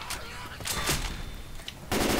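Gunfire from the zombie shooter Left 4 Dead 2, dense bursts of automatic shots with a loud, continuous burst at the end.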